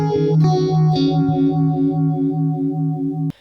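A clean electric guitar phrase, with a shimmering, wavering chorus effect, notes ringing out together before being cut off abruptly.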